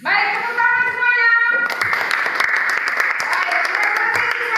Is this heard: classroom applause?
yes